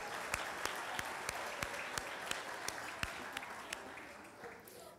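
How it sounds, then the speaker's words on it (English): Audience applause at a school district Teachers of the Year ceremony, a steady wash of many hands clapping with a few sharp, distinct claps standing out, fading slightly near the end. "Please join me in a round of applause, thanking them for giving their time to select this year's winners."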